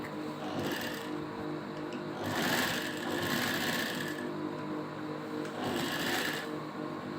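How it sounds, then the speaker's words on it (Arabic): An electric sewing machine stitches elastic onto a fitted sheet: a close, steady mechanical whir of rapid needle strokes that comes in several bursts, with short slower pauses between runs. "اخيط الاول كده، اثبت الاستك"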